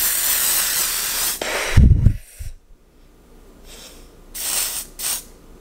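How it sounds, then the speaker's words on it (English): Makeup setting spray mists onto a face in several sharp hissing bursts, one long spray followed by a brief rustle, then two shorter sprays close to the ear. "I feel like I'm literally spraying hairspray all over my face."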